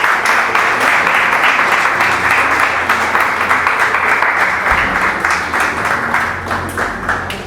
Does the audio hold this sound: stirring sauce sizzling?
no